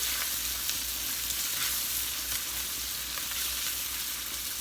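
Chopped onion sizzling in hot oil over high heat, the start of a shrimp and broccoli stir-fry, giving a steady, dense frying hiss throughout with no talk.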